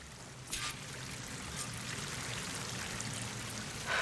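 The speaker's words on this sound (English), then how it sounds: "That waterfall must be coming from somewhere." Steady rushing water from a waterfall in the video game Horizon Forbidden West, a broad continuous wash with a slightly louder burst near the start and a rise at the end.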